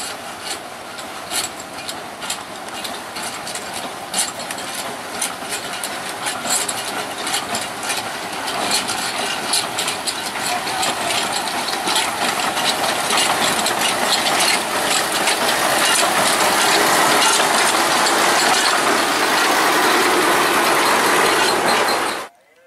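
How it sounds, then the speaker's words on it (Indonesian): A small sugar-mill lori locomotive runs steadily along rails buried under grass and soil near the Semboro sugar factory, a continuous engine drone laced with rasping, scraping noise that swells louder toward the end before cutting off. "Kereta lori terus mengarah ke timur menuju ke pabrik gula Semboro."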